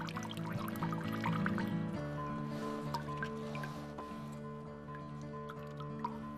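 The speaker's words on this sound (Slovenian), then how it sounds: "pustimo, da se voda iz substrata izcedi" Water drains out of the soil of a lifted potted plant in scattered drips and trickles over a faint steady background, louder and denser at first and then thinning out.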